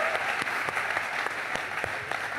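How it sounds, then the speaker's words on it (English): A church congregation applauding at a 25th birthday celebration, a dense steady burst of clapping from many hands filling the room, close and fairly loud throughout. "Go on, give these guys a big clap."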